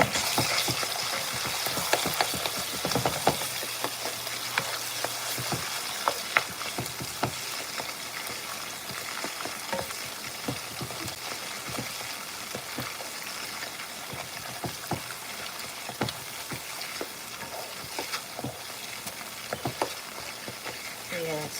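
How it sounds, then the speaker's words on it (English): Tinned tomatoes fry and bubble in a pot while a spoon stirs them, producing a continuous wet sizzle with frequent scraping taps and knocks, close and steady for the whole stretch, with no one talking. "And I have to stir it, make sure it cooks together."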